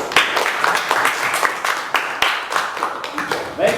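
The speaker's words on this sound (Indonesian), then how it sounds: "Kasih aplaus." Classroom applause follows a student's question in a fiqh practice lesson, a dense burst of many hands clapping at close range that runs throughout and stays fairly steady before fading slightly at the end.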